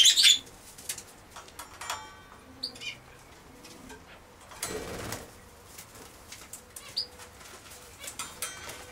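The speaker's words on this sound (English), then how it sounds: "Here's the aviary with some cockatiels, budgies, and" Wings flap and birds chirp and coo in an aviary holding cockatiels, budgies and finches, with brief close bursts of flapping over quieter scattered calls.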